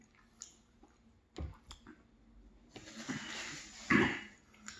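Chewing on a homemade bison cheeseburger topped with crunchy jalapenos, close and wet with squishy bites and clicks, rising to a louder crunchy burst near the end.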